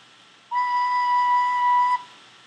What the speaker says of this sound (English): This is how we play a B